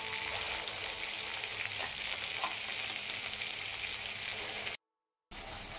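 Green masala paste fries in oil with garlic paste for a green chicken dish, giving an even, close crackling sizzle with light stirring that cuts out for a moment before resuming.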